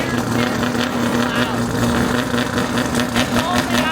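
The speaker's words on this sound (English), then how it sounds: "it's only idling right now. That is ear-piercing loud." A very loud car engine idling, a dense, steady rumble with a constant low drone that fills the whole stretch without letting up.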